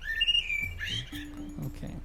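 Birdsong heard during an improvised music session: short whistled chirps and tonal calls, fairly close and clear, a few phrases with pauses between them, no talk.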